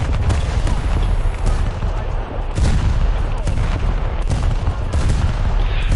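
Tank gunfire in the video game War Thunder: steady heavy firing with repeated booming shots and rapid bursts, loud and close, with a voice talking over parts of it.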